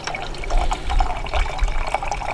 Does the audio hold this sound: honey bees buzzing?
no